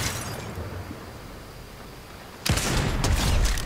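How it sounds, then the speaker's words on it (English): Gunfire from players shooting at each other in the video game Fortnite, a dense rattling burst that starts suddenly partway through and stays loud after a stretch of quieter rumbling noise. "They're still shooting at each other."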